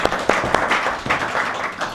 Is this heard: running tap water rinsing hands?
no